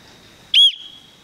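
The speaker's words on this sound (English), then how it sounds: "This here built in is the whistle." A single sharp, shrill blast from a pealess survival whistle built into a button compass, loud and close, lasting a fraction of a second over a faint steady background tone.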